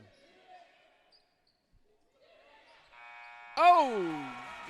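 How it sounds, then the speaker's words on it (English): Buzzer sounding at the end of a period in a girls' junior varsity basketball game, a loud steady electronic tone rising then sliding over bouncing balls, with faint crowd and commentary speech nearby. "Up and in right at the buzzer."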